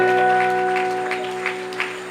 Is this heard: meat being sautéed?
no